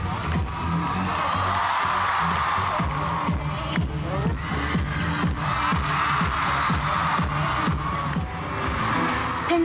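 Crowd of fans cheering and shouting at the Festa on Ice 2009 figure skating show, a steady dense roar filling the arena with scattered whoops and applause throughout.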